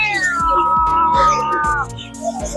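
A fluffy long-haired Peke-faced Persian kitten gives a drawn-out, falling meow of nearly two seconds, loud and close, with a rhythmic low background thumping throughout.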